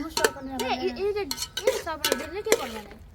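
A spoon clinks and scrapes against a bowl while a recipe mixture is stirred, giving several sharp metallic taps among softer swishing strokes, close and clear, with a voice briefly audible.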